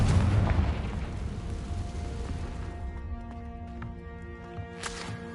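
A Confringo fire spell blasts in the Hogwarts Legacy video game, a loud booming explosion that rumbles and fades into a lingering tonal hum with faint later pops.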